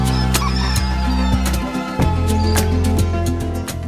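American Brahma chickens clucking and calling, with occasional short crowing notes over a steady background drone and hum, close and fairly loud throughout.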